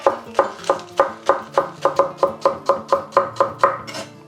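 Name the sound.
chopping spring onion with a knife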